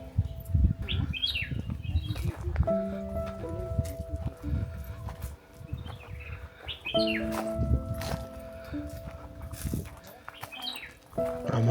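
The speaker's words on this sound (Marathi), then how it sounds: "गावाच्या बाहेर पडलो की पक्ष्यांचा आवाज." Birds call in the open countryside outside a village, with chirps and tonal whistles recurring over a steady crunching, clopping ground noise, and a flurry of flapping wings as quails take off nearby.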